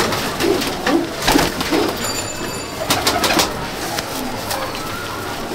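A Sylheti breeder female pigeon coos in a few soft, low rolling bursts near the start, with other bird sounds and light background noise around it and no talking.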